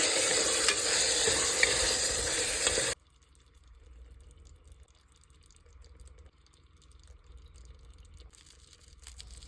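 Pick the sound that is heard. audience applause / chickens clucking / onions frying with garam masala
onions frying with garam masala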